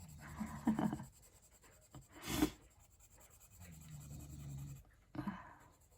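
A neon orange fineliner pen drawing on paper gives soft scratchy strokes in a few short bursts, quiet and close, with no one talking.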